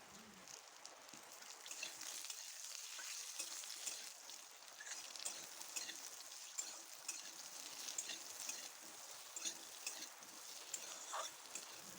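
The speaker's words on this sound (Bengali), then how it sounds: "আলুটাকে ভালো করে ভেজে নেব" Cut potatoes frying in oil with five-spice seeds, green and dried chilli and bay leaf: a soft, continuous sizzle with scattered crackles and pops, fairly faint and close, with no talking.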